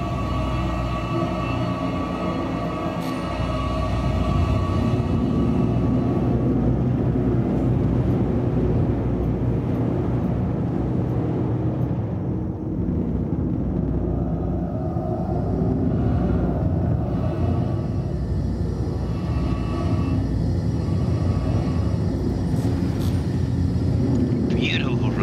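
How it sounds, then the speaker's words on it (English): An aircraft makes a flyby in a video game, its broad engine roar swelling and then fading away while several people keep chatting over it. "Beautiful flyby, sir. Beautiful flyby."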